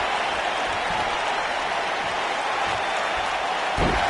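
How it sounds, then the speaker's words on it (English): A capacity crowd in a wrestling video game arena keeps up a dense, steady roar of cheering and applause, broad and continuous without breaks across the whole stretch. "This capacity crowd is beside itself."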